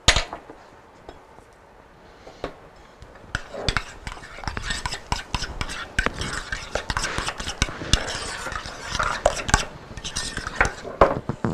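A spoon mixing dried minced onion with salt and pepper in a bowl, steady scraping and clinking of utensil against the bowl, close and continuous without talk.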